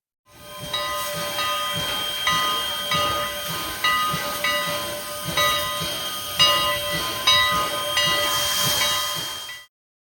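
A steam train engine being hooked up hisses steadily with rhythmic chuffing pulses and metallic clanks close by, continuous for several seconds before cutting off abruptly.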